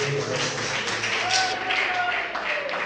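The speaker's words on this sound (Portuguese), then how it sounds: "Baixe uma salva de palmas para Jesus." A church congregation claps and applauds together for several seconds at a service, a dense patter of hands that stays fairly loud throughout, with a voice faintly mixed in.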